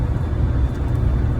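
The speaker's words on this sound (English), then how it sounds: "I know this car is making a lot of noise. It's a damn 1999." Low, steady rumble of engine and road noise inside a 1999 car while driving, a loud continuous drone close around the listener.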